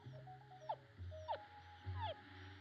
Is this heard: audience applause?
no